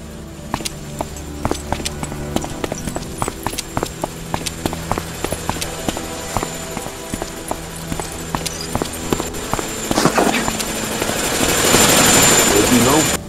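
A helicopter in the Chornobyl disaster game Chornobyl Liquidators whirs with rapid rotor chop under clattering, percussive game sounds, swelling louder toward the end.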